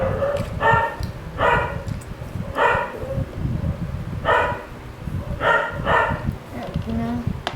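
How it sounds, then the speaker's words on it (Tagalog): Dogs barking in a household, a series of sharp, loud barks in repeated bursts, with people talking in between. "Ayan na naman namin mga aso."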